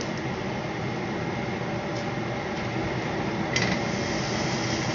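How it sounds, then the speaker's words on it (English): Steak sizzles in a hot pan, a steady, dense hiss, continuous and fairly loud, with a few faint clinks over the frying. "Oh, it's sizzling already."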